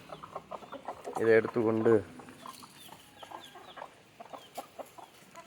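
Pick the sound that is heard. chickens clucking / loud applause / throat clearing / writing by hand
chickens clucking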